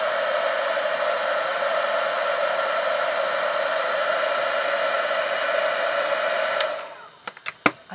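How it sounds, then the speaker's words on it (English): Heat tool blowing hot air to melt a stamped design on a tealight candle: a steady, loud, whining hiss runs for about six seconds, then shuts off, followed by a few sharp clicks. "just come in again with your heat tool"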